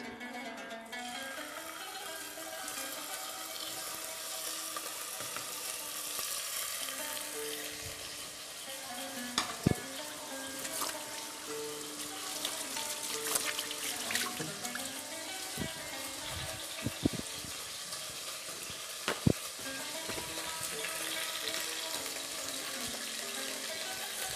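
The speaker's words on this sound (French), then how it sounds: "je vais ressoler la viande ici. Je vais la colorer sur toutes les faces." Pieces of meat browning in hot oil, a continuous soft sizzle with occasional sharp clicks and utensil knocks, moderately quiet and steady throughout, no speech.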